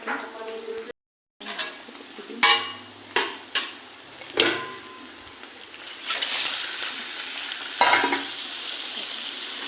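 Steady sizzling of duck meat frying in hot oil, with sharp bursts as pieces hit the pan and some stirring; a voice speaks briefly over it.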